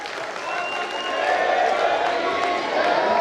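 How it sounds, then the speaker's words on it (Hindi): A crowd at a Jain temple consecration ceremony bursts into sustained, dense applause, a loud continuous wash of clapping with voices and tonal sound mixed in. "आइएगा जोरदार तालियों से गुरु भक्ति के गीत के साथ में"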